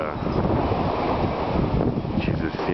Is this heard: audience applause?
no